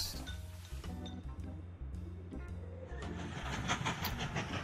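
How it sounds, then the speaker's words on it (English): A train in the transport strategy video game Mashinky rumbles steadily along with rhythmic clacking of wheels on rails and some metallic clinks, growing slightly louder toward the end. "Train is still going."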